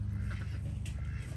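Chickens at a backyard chicken coop beside a garden, their low clucking and murmuring continuous and fairly close, with no voices over it.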